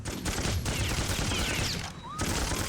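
Heavy automatic gunfire rattles in the NARC (2005) video game: dense, continuous bursts of shots, loud and close, with a short gap near the end before the firing resumes.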